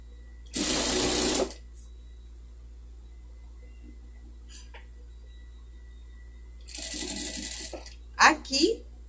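Sewing machine stitching fabric piping trim onto a pet pattern piece: two loud, close bursts of fast whirring stitching separated by a quiet pause, the second followed by a few short mechanical clacks.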